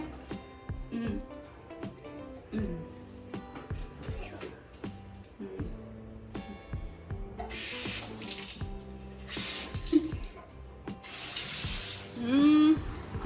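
Tap water runs into a sink while hands and legs are washed with body wash, a steady splashing stream under intermittent talking, rising into louder bursts of spray and splashing toward the end.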